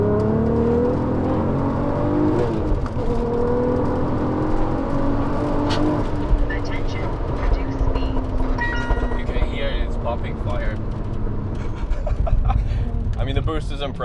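A 550 HP Volkswagen Golf R32 accelerates hard in a roll-on from 3,000 rpm, its engine note climbing loud and close through a gear change with a whirring turbo, while a voice talks over it.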